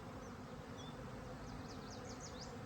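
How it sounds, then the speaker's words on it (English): Honeybees on orientation flights around a hive in a dandelion field drone with a soft, steady hum, and a few bees whine past up close. "Busy little bees."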